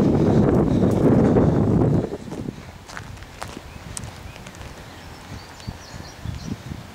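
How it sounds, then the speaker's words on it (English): Loud low rumbling wind buffets the microphone for the first two seconds, then eases into a quieter gusty background with faint scattered rustles, outside an abandoned Ames department store in Pennsylvania. "It's pretty windy."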